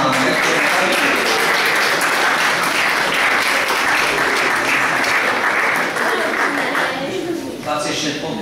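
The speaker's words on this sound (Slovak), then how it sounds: "ešte raz vám blahoželáme potleskom a ďakujem" An audience at a school Bible olympiad award ceremony gives the boys sustained applause, dense clapping filling the room for several seconds before thinning out near the end.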